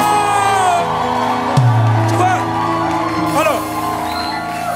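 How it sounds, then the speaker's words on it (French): Church congregation shouting, whooping and cheering during a lively French-speaking worship service, a dense loud crowd roar throughout with individual yells rising above it and voices mixed in. "Il crie trop ici aujourd'hui."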